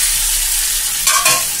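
Fish fries in a pan over a medium flame just after the lid comes off, making a loud, steady, close sizzle with a brief stirring scrape near the end.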